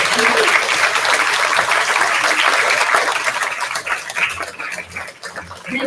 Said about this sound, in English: Throw your hands up and give a thunderous clap for Thomas as he thunders down the runway